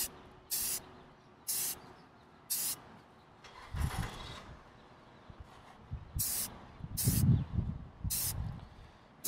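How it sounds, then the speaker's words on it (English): Airbrush or spray can spraying paint onto a Tau miniature model at a painting table, in about seven separate short hissing bursts spaced roughly a second apart, close up, with light handling clatter between them. "All right, we're going to go ahead and start spraying them."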